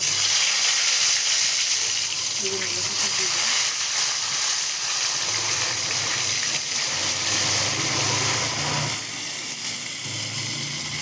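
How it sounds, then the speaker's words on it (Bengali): Eggplant slices frying in oil in a kadai give a steady, fairly loud hiss that runs nearly unbroken, with a slight dip toward the end. "বেগুনগুলোকে লাল লাল করে তেলের ওপরে দিয়ে ভেজে নেব"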